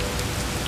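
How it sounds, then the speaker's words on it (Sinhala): Rain falls as a dense, steady hiss of drops, used as a short cartoon sound effect with no voices. "අනිත් හැමෝම ගහ යටට වෙලා ඉද්දි අසරණ අන්නාසි මල්ලි විතරක් වැස්සේ තෙමි තෙමි හිටියා"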